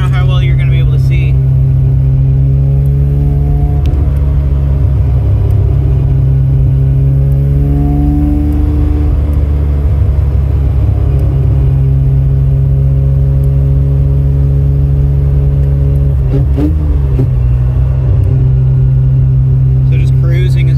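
The engine of a Mazda RX7 hums in a steady, loud, low drone from inside the car while it cruises, rising and falling gently with throttle, and a person talks over it.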